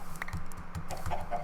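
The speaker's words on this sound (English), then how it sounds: "There's a lot of chickens around here." Soft, repeated clucks from video game chickens, with a crowd of birds in a farm scene. The calls are faint and overlapping, with light clicking in the background.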